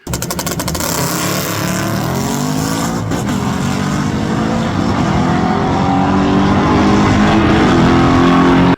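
Drag race car making a test-and-tune pass at St. Thomas Dragway on a no-prep track, its loud engine roaring steadily throughout with rising pitch as it accelerates, alone with no voices.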